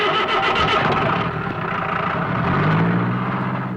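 A vehicle engine starts and runs with a loud, steady, close rumble that holds for the whole moment, with no talk over it.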